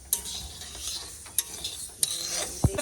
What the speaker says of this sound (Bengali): বাজারে কেনা ডাল তো শুকনো খোলায় বাজে নিছি